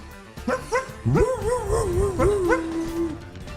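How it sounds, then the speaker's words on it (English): A pet therapy dog vocalizes up close in a radio studio lobby, a couple of short yips followed by a long, wavering howl-like bark that trails off. "a pet therapy dog who was so happy to see them, he started barking."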